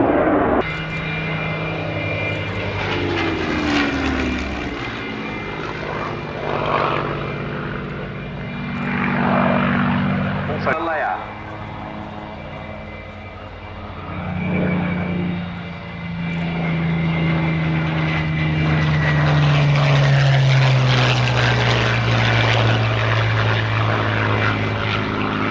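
A twin-engine aircraft flies at the Yeovilton Air Day airshow, its loud propeller engine drone swelling and fading as it passes, with pitch sliding down near the end.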